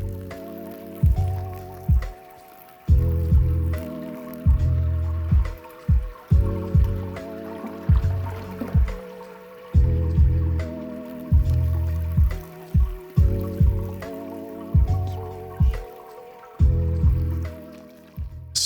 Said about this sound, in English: Sparging is like a final rinse to get any sugars out of the mash bed.